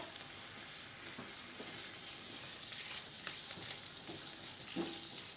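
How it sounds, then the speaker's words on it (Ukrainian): Chopped tomato frying in a pan with oil, a faint, continuous crackling sizzle with small pops and occasional stirring clatter. "Ось так ріжемо, пересмажуємо помідор."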